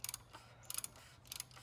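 A 15/16 socket wrench ratchets an oil drain plug tight on a 2018 Dodge Challenger SXT, giving three quick bursts of sharp clicking pawl sounds, close up, separated by brief pauses.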